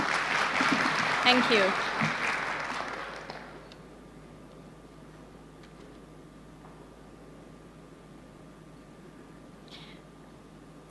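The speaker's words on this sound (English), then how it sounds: "Let's give a big round of applause once again." Audience applause at a climate change and road disaster-management conference, a dense, loud burst of clapping for about three seconds that quickly fades into a quiet room, with a brief spoken thank-you.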